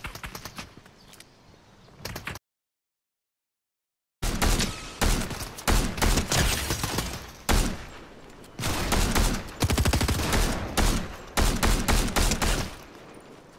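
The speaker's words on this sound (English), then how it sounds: "Shooting." Gunfire in Fortnite, Chapter 4 Season 2, with rapid automatic bursts and clusters of sharp shots, loud and dense, breaking off into complete silence for about two seconds before resuming in repeated volleys, no voices.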